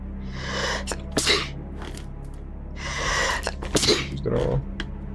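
A close, loud sneeze breaks over a quiet co-op stream of The Binding of Isaac: Repentance+, with sharp bursts of breath and no clear speech.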